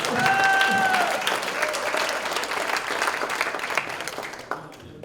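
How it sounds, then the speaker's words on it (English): Audience applause at a Lions Club officers' installation, a steady wash of clapping from a crowd that fades toward the end, with a brief whistle-like tone near the start. "let's give an applause"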